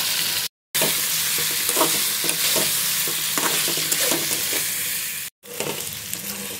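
Taro stolons stir-fried in a pan, a loud constant sizzle with frequent scraping of a spatula, briefly cut by two short silences.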